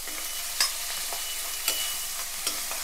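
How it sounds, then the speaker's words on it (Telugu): Bay leaf, cinnamon, cardamom and cloves frying in hot oil, a continuous bright sizzle punctuated by a few sharp stirring scrapes, close and alone. "ఇవి వేసి కొంచెం బాగా వేపుకోవాలన్నమాట. దోర రంగులోకి వేగిపోవాలి."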